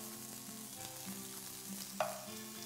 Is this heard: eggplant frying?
yes